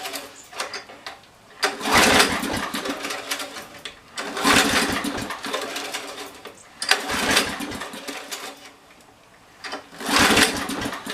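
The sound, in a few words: 10 HP Briggs small engine running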